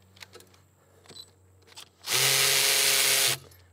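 A few light clicks and taps, then a Milwaukee M12 Fuel cordless ratchet whirs loudly for just over a second loosening rusty bolts on an old Subaru 3-liter engine, close up.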